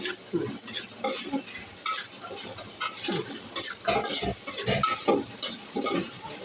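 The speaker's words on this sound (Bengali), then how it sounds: "হলুদের গুঁড়া এবার ভালো করে কষিয়ে" Cumin paste and turmeric powder are sautéed in a pan for khichuri. Soft sizzling runs under repeated scraping stirs of a spatula, close and moderately loud, with no one talking.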